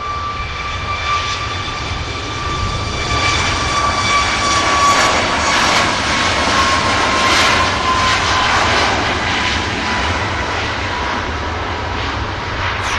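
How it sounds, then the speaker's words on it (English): A Ryanair airliner takes off from runway 23 left at Manchester Airport, its jet engines a loud, sustained roar with a rising whine that swells and holds steady throughout. "Ryanair rotates from the runway surface of 23 left."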